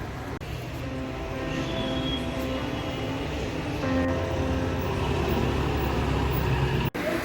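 Train at a railway station on a Kolkata to Delhi journey, a steady loud rumble of an idling or slowly moving train with a low mechanical drone, the level swelling midway, a couple of sharp clicks, no talk.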